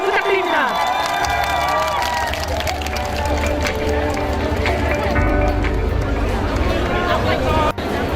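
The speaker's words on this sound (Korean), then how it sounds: "큰 박수 부탁드립니다." Loud crowd noise at a Korean political rally for an opera singer, with cheering and a dense roar of voices, steady and continuous for the whole stretch, with broad applause-like wash under it.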